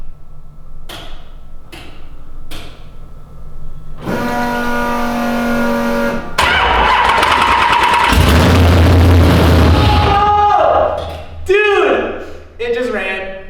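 A V8-swapped Nissan S14 cranks with a few clicks, then the engine catches and roars loudly before settling into a rough, uneven idle, with people talking excitedly up close over the running motor.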